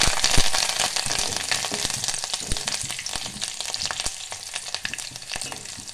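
Crushed garlic and curry leaves frying in hot oil for a sponge gourd stir-fry, a bright crackling sizzle with sharp pops and spatters, close and continuous, no talking.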